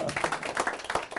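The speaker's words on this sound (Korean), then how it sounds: "박수." A group at a Saturday lecture gives brief, close rhythmic clapping, a quick burst of distinct hand claps with no talking over it.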